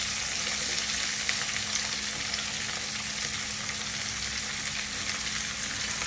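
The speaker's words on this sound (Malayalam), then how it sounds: "ഉള്ളി ഇട്ട് കൊടുത്ത് നല്ലവണ്ണം വഴറ്റിയെടുക്കും." Onions sauté in oil with green chillies and popped mustard seeds for a Kerala ulli theeyal, a loud, even frying hiss that holds steady without pause.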